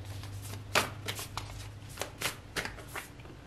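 Tarot cards, oversized deck, being shuffled by hand: a series of crisp riffling and slapping bursts at an uneven pace, close and fairly quiet, with no talk over them.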